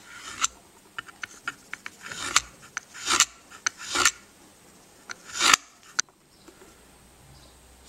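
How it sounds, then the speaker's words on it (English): Knife scoring squares through paint applied over epoxy for an adhesion test, a string of short sharp scratches and scrapes, some louder, close up with quiet gaps. "Now I'm going to take the knife and I'm going to cut the squares"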